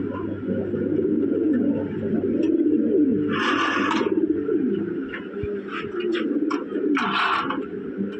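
Red Lahori running pair of pigeons cooing softly and continuously close by, with low murmuring coos under a steady background and a couple of brighter chirp-like bursts, no talk.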